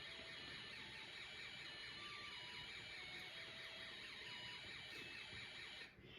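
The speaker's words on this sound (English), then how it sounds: "we have the music IC and the alarm IC, along with our resistor and the speaker and our motor" Snap Circuits Extreme SC-750 kit running its music IC and alarm IC through a small speaker, with a resistor and motor in the circuit, giving a faint, steady electronic tune of stepping tones that plays on unbroken.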